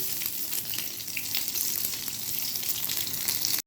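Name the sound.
paneer frying and sizzling in hot oil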